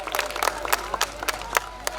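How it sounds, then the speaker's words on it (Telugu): Scattered applause from the audience at a school annual day, made of loose, uneven claps that stay at a moderate level for about two seconds. "ఉంటే ఒకసారి గట్టిగా చప్పట్ల ద్వారా తెలియజేయండి."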